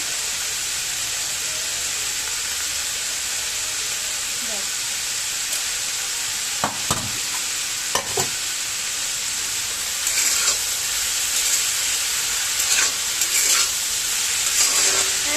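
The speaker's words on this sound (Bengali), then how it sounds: "আমি আলু ভাজা করছি।" Potatoes fry in a pan seasoned with turmeric and salt, giving a continuous close sizzling hiss broken by scraping stirs, with the stirring growing busier and louder toward the end.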